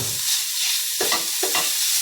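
Beef stir-fried in a pan for fried bihon noodles, with a steady background sizzle broken by a few short bursts of scraping and stirring near the close.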